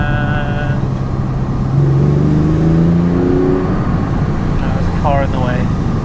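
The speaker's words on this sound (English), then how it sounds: "floor it just a little bit because I just want to hear it out of the window" A Porsche 911 of the 996 generation revs up under acceleration in second gear, with a rising engine whine heard from inside the car. People talk over it.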